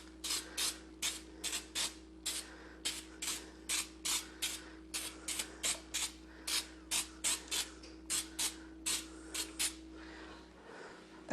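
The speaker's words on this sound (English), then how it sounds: "we're going to spray it with some baking spray" Baking spray hisses from a can into a non-stick bundt pan in about two dozen short, evenly paced bursts, close and steady, with no talking.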